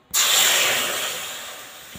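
A splash of water hits a hot wok used for roasting sesame seeds and gives one loud, sharp burst of hissing steam that fades slowly over about two seconds, heard alone.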